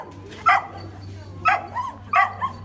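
A dog barks three times at spaced intervals, close by, over a low steady hum of a crowded veterinary clinic waiting room with cats and dogs.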